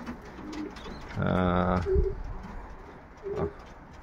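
Pigeons in an aviary give a low, throaty coo in one clear rolling phrase, with softer coos before and after and faint rustling in the background, close to the listener.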